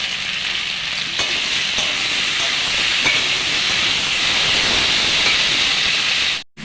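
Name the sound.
frying chopped tomato with spices in pan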